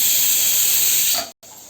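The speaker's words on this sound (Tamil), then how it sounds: "சட்னி அரைச்சாச்சு இப்போ நம்ம இதை தாளிச்சிக்கலாம்" Mustard seeds and urad dal tempering in hot oil for chutney give a loud, steady hissing sizzle close by that cuts out abruptly for a moment near the end, then resumes.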